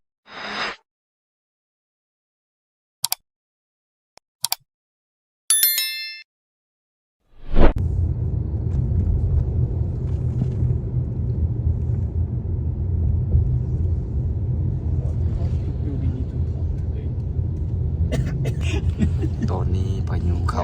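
Strong storm wind in Vientiane, Laos, roaring and buffeting in a steady, loud broadband rush that sets in suddenly after a few short bursts of voices.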